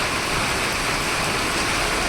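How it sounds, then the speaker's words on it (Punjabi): Heavy rain pours down steadily at a farm, a dense, even roar of rainfall on surfaces that fills the whole stretch without a break or any voices. "ਲੈ ਮੀਂਹ ਵੀ ਜੋਰਾਂ ਤੇ ਕਿਆ ਬਾਤ ਹੈ"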